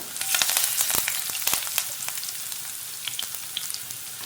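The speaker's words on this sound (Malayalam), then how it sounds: "ചതച്ച് വെച്ചിരിക്കുന്ന വെളുത്തുള്ളി ഇതിലേക്ക് ചേർത്ത് കൊടുക്കാം" Crushed garlic and fresh curry leaves hitting hot coconut oil in a pan, bursting into a loud, crackling sizzle with sharp pops at first that settle into a steadier fry.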